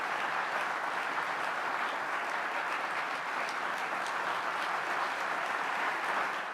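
Steady, dense applause from a large audience at an awards ceremony honoring a lacrosse figure, a continuous wash of clapping held at even loudness throughout, with no voices over it.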